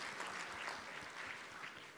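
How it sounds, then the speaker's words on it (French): An audience applauding at a school management gathering, a dense, steady patter of many hands clapping at moderate distance, no voices over it. "Merci, on l'applaudit."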